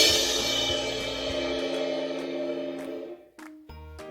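A suspended cymbal rolled with soft percussion mallets rings in a long shimmering wash that slowly fades, then is choked off, followed by a couple of brief metallic taps.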